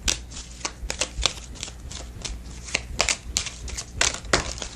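Oracle cards are shuffled by hand in quick, close, papery riffles and flutters, with irregular bursts of crisp slaps over a few seconds and no speech.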